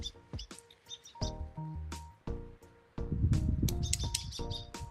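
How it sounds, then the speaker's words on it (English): Several birds fighting in a yard give bursts of sharp chirps and tweets, irregular and close, mixed with scuffling noises and other background sounds. "birds are fighting in my yard"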